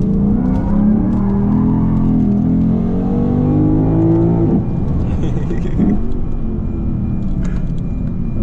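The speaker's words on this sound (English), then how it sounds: "Them downshifts are nice." A Lexus IS 500 F Sport engine revs up through a rising tone, then blips sharply on downshifts, loud and close from inside the car with a low rumble beneath.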